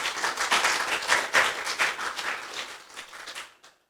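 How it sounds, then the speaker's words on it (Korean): A crowd applauds with dense, steady clapping for a few seconds, then the clapping dies away to silence. "박수 한번 쳐주세요."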